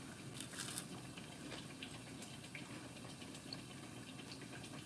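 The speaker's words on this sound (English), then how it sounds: "That's the sound of frying bananas," Sliced bananas and sweet potatoes frying in hot oil in a pan, a quiet continuous sizzle and crackle with faint pops, heard up close and alone.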